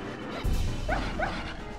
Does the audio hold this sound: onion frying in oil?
no